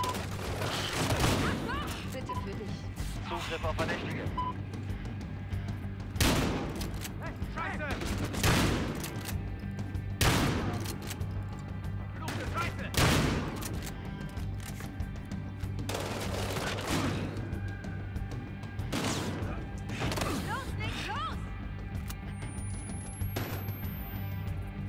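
Scattered gunshots and short bursts of gunfire in the video game Battlefield Hardline, a firefight of sharp cracks spread out over a steady low background hum, with someone talking intermittently between and under the shots.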